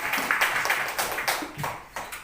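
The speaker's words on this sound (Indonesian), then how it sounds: "Tepuk tangan dulu Bapak Ibu" A small group at a positive-culture training session claps, a short burst of fairly close, uneven handclaps with distinct individual smacks.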